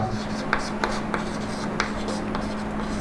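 A marker or chalk writes an equation on a board during a Hindi maths lesson on straight lines, making quick scratchy strokes in short bursts while someone speaks.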